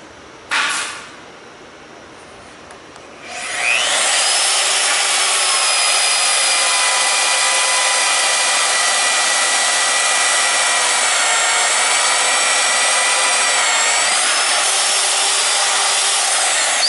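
A loud, steady mechanical whine starts after a brief burst and short lull, then grinds on continuously as a magnetic drill bores through steel.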